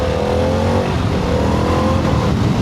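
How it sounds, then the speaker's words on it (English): A 2025 Harley-Davidson Pan America ST motorcycle engine pulls hard and loud up close, its revving tone dropping as the quick shifter snaps through a gear change mid-acceleration. "And that's the quick shifter."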